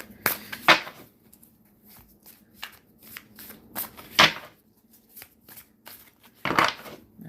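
Tarot cards are shuffled in quick riffles and soft slaps, irregular bursts close by and fairly quiet, with no talking.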